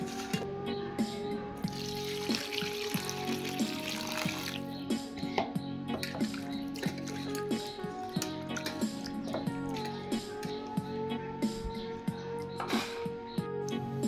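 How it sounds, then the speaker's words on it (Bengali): Running tap water splashes steadily as cut fish are rubbed with salt and rinsed clean under the faucet in a home kitchen, with continuous trickling and dripping plus occasional clinks of a bowl. "মাছগুলো ভালো করে ঘষে পরিষ্কার করে ধুয়ে নেব"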